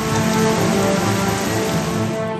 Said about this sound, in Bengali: আকাশের মুখ ভার, কোথাও ঝেঁপে বৃষ্টি,